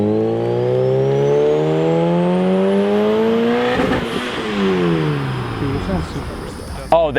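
A 500 hp Mk1 Audi TT with a Gen 2 GTX3071R turbo spools up with a rising high-pitched whine over the revving engine, climbing steadily, then the revs fall away with a fading whistle and a brief off-throttle burble.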